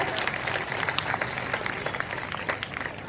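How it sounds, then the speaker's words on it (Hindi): A seated crowd of women at a Hindu community gathering in Badgaon, Udaipur claps together, a brisk run of applause heard at moderate distance with a little background murmur. "तो एक बार जोरदार तालियां आपके सब्र के लिए, आपकी निष्ठा के लिए"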